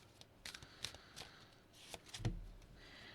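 Tarot cards being shuffled by hand, a series of soft, close, quiet riffling and slapping bursts in a near-silent room.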